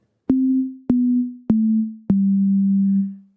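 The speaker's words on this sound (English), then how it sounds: "Listen to this little run of notes." A run of four pure sine-tone notes, each a little lower than the last, creating a missing-fundamental illusion; the notes sound cleanly one after another, the first three short and even, the final one held longer.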